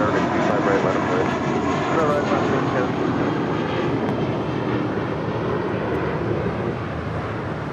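An airliner takes off from runway 25 right at LAX, with a loud, continuous jet roar that fills the whole stretch and fades slightly at the end while air traffic control radio talk plays over it.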